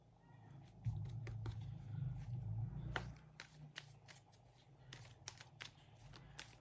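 A tarot deck is shuffled by hand, giving quick, soft riffles and card slaps in uneven bursts, close and quiet, with a low muffled rumble underneath.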